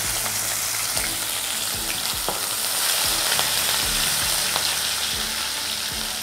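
Oil sizzles and crackles steadily in a pan as urad dal and chopped green chillies fry, with occasional stirring scrapes, close and continuous, no talking.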